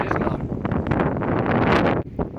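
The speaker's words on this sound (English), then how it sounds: "It's a bit windy" Strong wind gusts buffet the microphone outdoors while fishing with a feather lure, a loud continuous roaring rumble with rustling that swells and briefly drops before returning.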